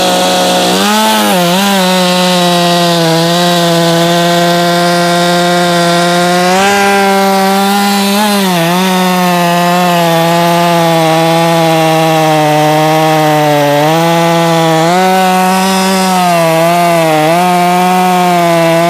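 A modified Poulan Pro 335 chainsaw runs steadily and loudly, its engine whine holding a strong pitch that dips and climbs with throttle changes throughout, with no talking.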